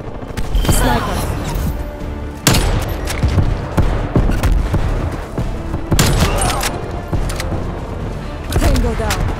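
Rifle fire from an enemy sniper in Black Ops Cold War's Team Deathmatch on the Satellite map, sharp loud cracks among constant gunfire and chaotic battle noise, with voices shouting over it.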